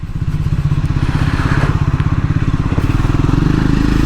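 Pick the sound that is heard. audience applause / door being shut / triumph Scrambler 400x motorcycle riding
triumph Scrambler 400x motorcycle riding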